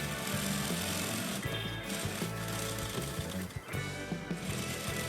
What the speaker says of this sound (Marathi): कडेनी सुद्धा शिलाई मारून हा पॅच आपल्याला पूर्णपणे पॅक करून घ्यायचा आहे।